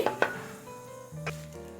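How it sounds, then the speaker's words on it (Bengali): Panch phoron spices fry in oil as a spoon stirs them, with a couple of quick scraping clinks against the pan over a faint, steady hum. "পাঁচফোড়নটা একটু নাড়াচাড়া করে আমি ভেজে নিচ্ছি"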